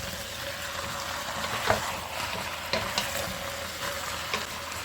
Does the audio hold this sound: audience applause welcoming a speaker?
no